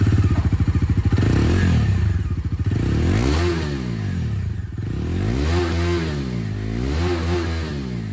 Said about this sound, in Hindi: डोमिनार 250 की जो एग्जॉस्ट साउंड है वो आप लोग सुन लीजिए।